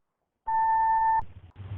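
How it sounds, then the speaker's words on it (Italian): An answering machine gives a single loud steady electronic beep lasting under a second, followed by faint low room noise and handling sounds. "Please leave your name and phone number after the beep"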